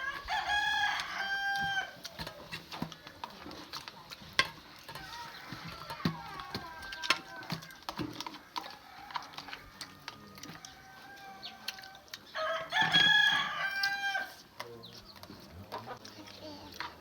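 A rooster on a Thai farm crows twice, loud and close, once at the start and again near the end. Softer clucks, rustling and some talking fill the space between the crows.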